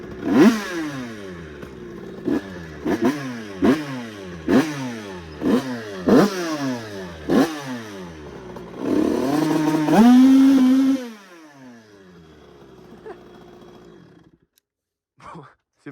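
An MRT motorbike fitted with a new cylinder block revs hard in a rapid series of sharp, rasping bursts, then holds a loud sustained roar before dropping away to quiet idle.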